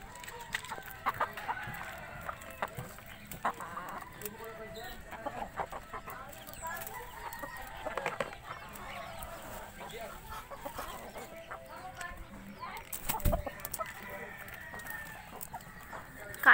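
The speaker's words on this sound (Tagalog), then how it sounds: "Yung mga alaga kong chicken." Pet chickens clucking, with a rooster crowing now and then, close by and moderately loud; someone talks intermittently over the birds.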